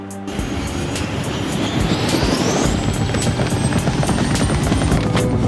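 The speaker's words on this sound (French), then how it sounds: "Venez, nous allons prendre mon hélico." A cartoon helicopter flies steadily with a dense, continuous rotor-and-engine roar and rapid chopping pulses, loud and close throughout with no pauses.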